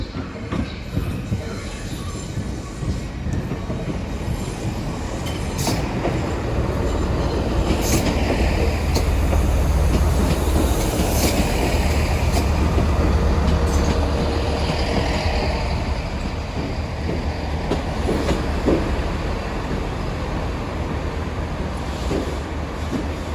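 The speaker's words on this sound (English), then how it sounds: "coming in now will be the service to Paynton. Oh, 166 210." A Class 166 diesel train pulls into Exeter St Davids station on a Paignton service, its rumble building and lingering with wheel squeal and rail clatter, loud and close on the platform for the whole stretch.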